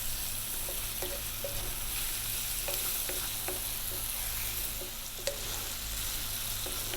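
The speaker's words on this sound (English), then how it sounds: "We're going to be stirring quite a lot now because we've got our spices in." Spiced pumpkin sizzles steadily in a frying pan for a vegan fried rice, with repeated soft scraping strokes of a utensil stirring through it, close and constant with no talk.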